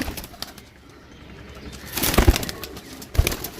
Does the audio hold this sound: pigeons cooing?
yes